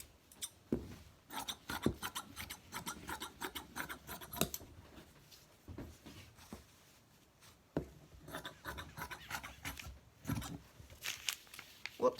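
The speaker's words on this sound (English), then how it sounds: "I'm going to use it to cut through this pillowcase my 20 by 20 inch square." Scissors slicing through a pillowcase to cut a 20 by 20 inch fabric square, heard as close, repeated bursts of crisp snipping and rasping cuts with short pauses between strokes.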